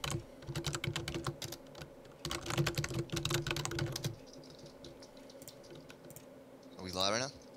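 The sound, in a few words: typing on a computer keyboard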